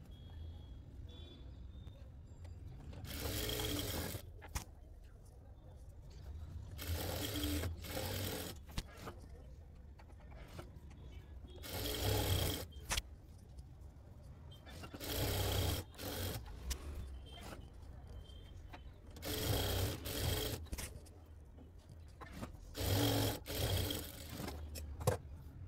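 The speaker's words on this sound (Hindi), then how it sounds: "यहाँ पर हम लपकी यानी कि किनारे की सिलाई लगा लेते हैं ऐसे" A sewing machine stitching the hem edge of a saree, running in repeated bursts of rapid whirring with short pauses between them, close up and with no talking.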